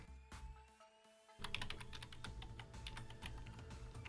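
Quiet, rapid keystrokes clatter on a computer keyboard in an irregular rhythm, faint and close.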